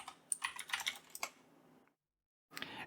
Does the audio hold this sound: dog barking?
no